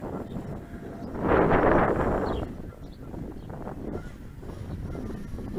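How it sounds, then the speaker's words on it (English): Steady wind roars and buffets the microphone outdoors while a JJRC JJ1000 drone with an upgraded battery is flown, swelling into a stronger gust midway, with no talking. "that wind is really pushing it"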